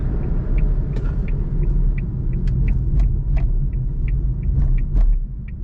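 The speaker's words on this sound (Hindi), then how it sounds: "अब देखें, मैं इसको लो आरपीएम पे शिफ्ट करता हूँ, आवाज़ बिल्कुल बहुत कम आएगी" Suzuki Alto VXR 660cc car engine running at low rpm, a steady close low rumble with faint intermittent clicks and ticks above it and no speech.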